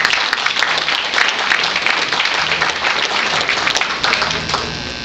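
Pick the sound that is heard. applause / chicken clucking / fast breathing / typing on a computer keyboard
applause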